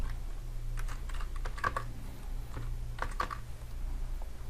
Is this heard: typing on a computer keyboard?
yes